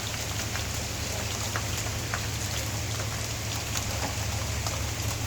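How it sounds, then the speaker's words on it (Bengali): Rain falls on tree leaves in a steady, even patter with a constant close hiss and scattered sharper drips, no voices. "পাতার মধ্যে বৃষ্টি পড়তেছে কত সুন্দর লাগতেছে"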